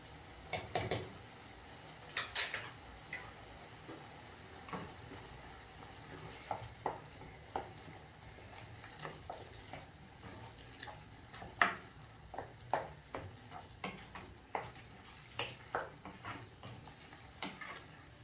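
Beef stew with tomato paste stirred in a pot, a spoon scraping in repeated short strokes over a soft sizzling simmer, close and fairly quiet with no talking.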